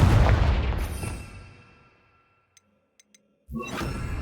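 A Confringo explosive spell fires in Hogwarts Legacy, a loud booming blast with a rumbling tail that fades over about two seconds, followed by a few faint ticks and the start of another loud burst.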